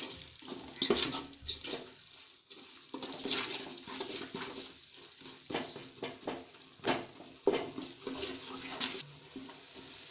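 Fish curry with meen kulambu masala is stirred in a cooking pot, with close, irregular scrapes and clinks of a utensil against metal over soft, wet bubbling.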